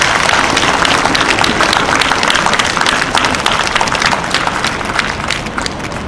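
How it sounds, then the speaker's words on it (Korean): A crowd at an outdoor hunger-strike protest Mass claps and applauds, loud and dense with sustained rapid clapping that tapers slightly toward the end. "큰 박수 한번 보내주셨으면 좋겠습니다."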